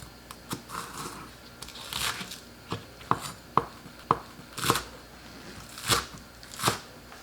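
A knife chops green onions on a cutting board while kimchi is being made, giving about a dozen crisp, close thuds at an irregular, unhurried pace with faint handling noise between them.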